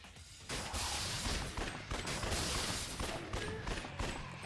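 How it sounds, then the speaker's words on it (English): Pistols fire repeatedly at zombies in Yakuza Dead Souls, a quick, dense string of sharp shots with clattering impacts and game effects, sustained for about four seconds. "I'm just shooting the zombies as they drop in."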